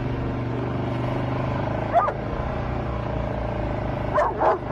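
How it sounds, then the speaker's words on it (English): Dog barking outdoors during a hunting trip, two or three short barks at moderate distance over a steady low rumble of background noise. "I don't know what he's barking at."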